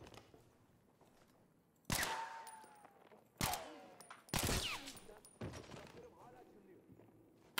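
Gunfire in the World War I shooter game Battlefield 1: four loud, sharp shots spaced a second or more apart, each trailing off in an echoing tail, with quiet gaps between.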